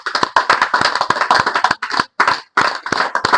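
Tuition students clapping after a guided meditation session: a burst of quick, uneven hand claps from a small group nearby, dropping into two short pauses before picking up again.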